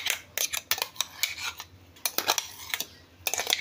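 A spoon stirs creamy avocado in a bowl, making quick clinks and scrapes against the side that come in irregular bunches, close up with no talking.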